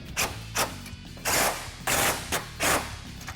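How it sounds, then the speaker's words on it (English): Ratchet tightening the strut retaining bolts on a 2005-2014 Mustang during a Pedders eXtreme Xa adjustable coilover install: five rapid bursts of clicking, close and loud, with short pauses between, no talk. "now we're going to reinstall the last 3 bolts up here that retain the strut and tighten those down"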